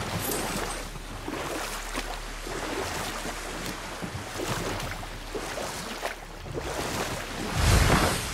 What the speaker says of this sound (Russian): Ух ты, я еще не видел такого огромного водопада.